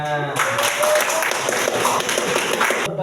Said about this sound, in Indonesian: Benar, tepuk tangan.